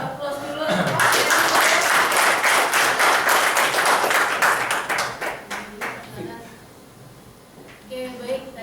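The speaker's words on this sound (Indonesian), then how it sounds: "Kita kasih aplaus dulu." An audience claps loudly together for several seconds after a talk, the applause gradually thinning and fading out as a voice starts speaking.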